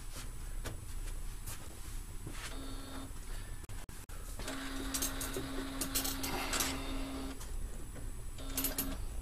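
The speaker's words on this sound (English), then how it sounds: "we're looking for the printer to start up" A desktop printer powering on after being plugged back in gives a steady mechanical whir. Motor hum and a sustained tone rise midway, with brief clicks and a short pause in the noise.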